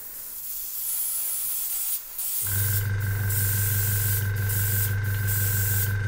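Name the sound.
airbrush spraying paint on a Warhammer model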